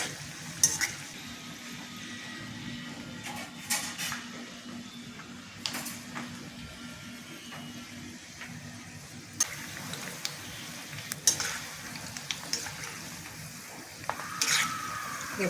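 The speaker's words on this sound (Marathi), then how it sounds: "हे चांगले बदामी रंगावर खुसखुशीत तळून घ्यायचे" Shankarpali pieces deep-fry in hot oil with a steady, soft sizzle that runs throughout, broken by occasional light scraping and clatter from stirring.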